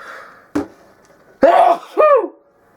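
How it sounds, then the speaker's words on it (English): A sharp sudden intake is followed by a loud, explosive sneeze and a shorter vocal burst, close and clear in a quiet room. "I got a sneeze coming on."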